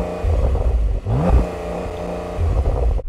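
A Porsche 911 Turbo S engine revs hard in short bursts, rising and falling with a throaty exhaust note, close by, with a brief lull before it climbs again.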